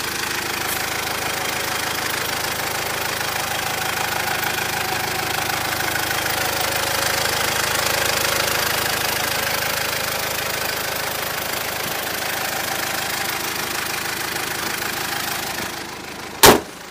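A 2007 Mitsubishi Pajero 3.2 litre DiD diesel with 174 horsepower clatters steadily at idle under the open hood, a rough, even knocking rumble heard up close, ending with a sharp bang.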